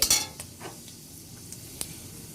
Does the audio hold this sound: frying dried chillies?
yes